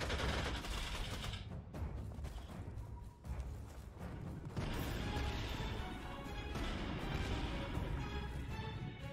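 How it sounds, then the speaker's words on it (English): Support fire in Panzer Corps 2 during an assault on Moscow, dense rumbling volleys of gunfire and explosions layered continuously and loud throughout. "Double support fire."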